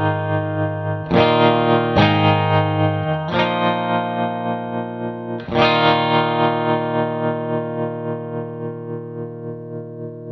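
Electric guitar through a Wampler Latitude Tremolo Deluxe pedal set to eighth-note tremolo: four ringing chords, the last left to decay, each pulsing in steady, quick volume throbs, up close with no talk.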